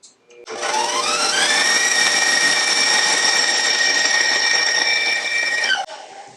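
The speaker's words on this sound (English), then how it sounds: "we've got the whisk attachment on. We're going to beat this till it's fluffy." An electric mixer fitted with a whisk attachment beats three blocks of cream cheese, a steady loud motor whine rising in pitch as it spins up, then holding level for about five seconds before cutting off.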